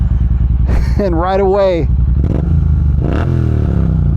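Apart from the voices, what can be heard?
Triumph Bonneville T120 motorcycle engine starting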